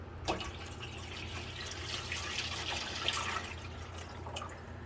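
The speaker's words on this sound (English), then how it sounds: "we are carefully adding the water. I have about 2 quarts of hot water here." Hot water is poured from a container into a pan sitting in an oven around a cake, a steady gentle trickle and splash with a low background hum, quiet and close.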